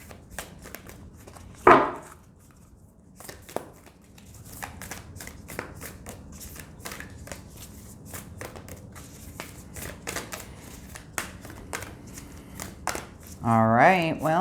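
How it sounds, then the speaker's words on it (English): Tarot cards are riffled and shuffled up close in brief bursts of crisp flicking, with sparse taps and a voice speaking briefly at the end. "Just a couple more shuffles."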